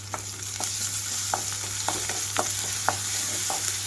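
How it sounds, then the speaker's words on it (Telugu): Onions fry with ginger garlic paste in a pan, giving a steady close sizzle while a utensil scrapes and stirs in short irregular strokes, with no talk. "ఉల్లిపాయలు కొద్దిగా సాఫ్ట్ కలర్కి అయ్యాక అల్లం వెల్లుల్లి పేస్ట్ వేసుకొని వేయించుకుంటాను"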